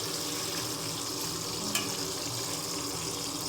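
Small onions sizzle in hot oil for a meatless pulao, a steady crackling fry with a constant hiss throughout and a single brief clink midway, close and continuous with no talk.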